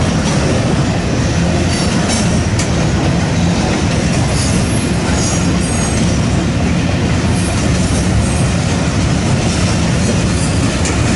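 Freight traffic at a rail diamond crossing, a manifest and a stack train rolling through: loud, continuous close rumble of wagons with wheel clatter and faint squeals, unbroken for the whole stretch.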